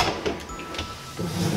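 Drawer on full-extension glides sliding open, a soft rolling rumble with a few small clicks and knocks, close and moderately quiet, with no talking.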